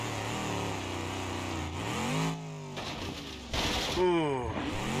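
A simulated race car with a damaged exhaust revs on a dirt track, engine pitch sweeping up and down repeatedly in loud, close bursts with gear-change dips, while someone talks over it.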